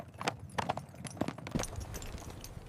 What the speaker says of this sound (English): Horses steady across the dusty plain